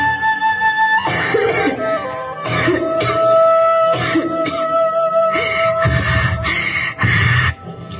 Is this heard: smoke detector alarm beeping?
no